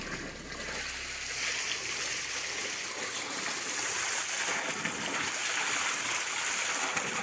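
Clean spring water fed by pipe from the hills pours steadily at a house in rural Konkan, a constant close rushing and splashing with no voices.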